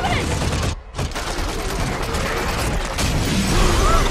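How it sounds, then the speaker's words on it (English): Gunfire aimed at a dinosaur in a film scene: a dense, loud fusillade of rapid shots and mechanical clatter with a brief silent gap early on, continuing through the rest. "They're shooting at the Indominus!"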